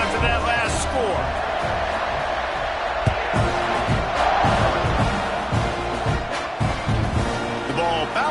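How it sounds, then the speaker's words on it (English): A football stadium crowd buzzes loudly and steadily after a score cuts the lead to 14-10, with scattered shouts rising out of the roar while a commentator talks over it. "this crowd is buzzing after that last score"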